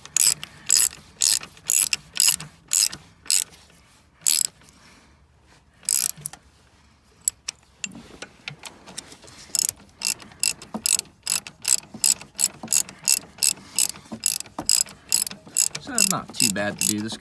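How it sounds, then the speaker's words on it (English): A hand ratchet tightens alternator bolts on a 2003 C5 Corvette with rapid, sharp metallic clicks in repeated runs, pausing briefly, while someone speaks a few words. "Now we can just tighten them up with the ratchet."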